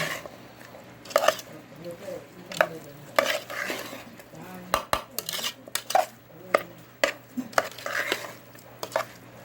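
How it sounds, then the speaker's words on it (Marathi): Raw mango pickle is mixed with oil and spices in repeated close, wet scraping and clattering strokes, a soft voice talking underneath now and then. "चांगलं व्यवस्थित मिक्स करून घ्यायचं सगळं तेल लागलं पाहिजे आपल्याला"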